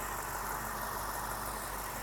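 A 4.5 litre V8 car engine in great condition idles steadily, a smooth, continuous, even hum heard close up with no talking over it.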